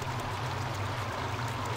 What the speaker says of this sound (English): Who is splashing around?